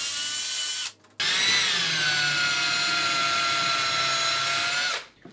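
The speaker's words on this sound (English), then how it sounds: "I just need to drill a hole through the center, so to allow the encoder to go through the center." A power drill bores a hole through the center of a rotary switch from a 737 MCP panel: a loud, steady, high whine that stops briefly near the start, then runs continuously before winding down.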